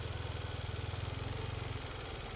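A motorbike engine putters steadily up close with a fast, even throbbing rhythm, loud and continuous, easing slightly toward the end, while riding in Thailand between Pattaya Beach and Rayong.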